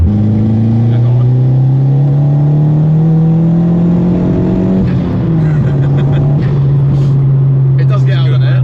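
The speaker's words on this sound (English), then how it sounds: "Yeah, it does pop when you when you really get through the gears, it pops." A VW Fox GTI engine revs hard, its pitch climbing steadily before dropping off and settling, with crackling exhaust pops toward the end and voices talking over the loud engine.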